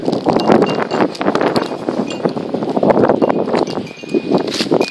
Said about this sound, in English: It's windy. See, that's how the wind